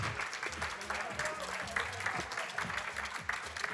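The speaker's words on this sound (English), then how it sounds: "Give a massive round of applause as well for Gifflar" An audience at the Splatoon 3 European Championship Nordics finals applauds the runners-up team, a dense, steady patter of clapping that runs the whole time, with a host's voice speaking over it.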